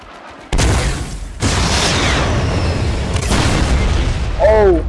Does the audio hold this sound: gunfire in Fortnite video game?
yes